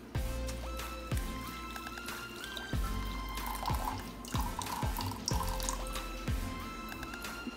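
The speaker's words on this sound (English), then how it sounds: "Then you want to add in your 1 full cup of hot water." Hot water poured from a cup into a bowl of jello powder mix, a steady splashing, gurgling stream running close and continuous for several seconds.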